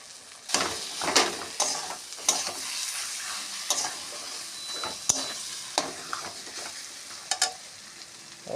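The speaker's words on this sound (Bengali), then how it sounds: "আলু এঁচোড় একসঙ্গে মাখিয়ে রেখেছিলাম, সেটা দিয়ে দিচ্ছি" Potato and jackfruit cutlet mixture frying in a pan, with a steady sizzle broken by repeated scraping stirs at an irregular rhythm, close and fairly quiet.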